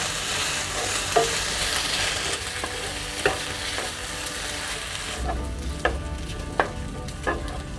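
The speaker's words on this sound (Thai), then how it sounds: "ผัดไปเรื่อยๆเลยค่ะ จนกว่าคุณเชียงเราจะแห้งนะคะ" Chinese sausage is stir-fried over medium heat until dry as the liquid cooks down. A constant close sizzle is punctuated by regular spatula scrapes against the pan, with no voices.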